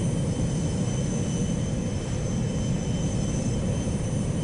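Small plane cruising over the Alaskan backcountry, a steady, loud engine and airframe drone with constant rumble and hiss throughout, no voices.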